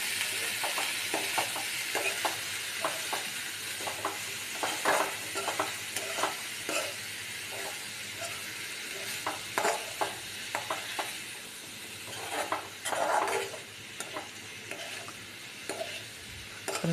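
Chinese potato (koorka) stir-fry sizzles steadily in a pan while a spatula repeatedly scrapes and stirs, giving rhythmic close scraping knocks over continuous frying hiss, without any talking.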